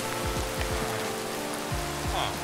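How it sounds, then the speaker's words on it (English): A heavy downpour in Minecraft on the Mesabrook server makes a steady, dense hiss of rain, with soft low thumps repeating underneath, close and constant throughout. "it's really downpouring"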